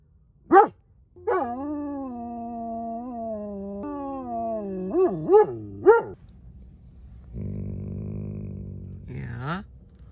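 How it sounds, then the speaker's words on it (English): Sparrow the dog howls at night in a desert camp near Quartzsite, Arizona, singing along with coyotes in the distance: a long sustained howl, then short rising yelps, a low wavering moan and a final yelp, close and clear over quiet. "we gained coyotes howling in the distance, which Sparrow thought was a great thing to sing along to."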